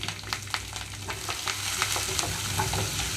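Onions, green chillies and curry leaves crackling in hot ghee for a tempering, a loud close sizzle full of sharp pops and spatters, with light stirring and no voices.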